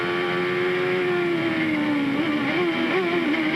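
A 1991 CART racing car engine whines at high pitch during the Surfers Paradise race, its tone dipping and wavering as the gearbox works, loud and continuous.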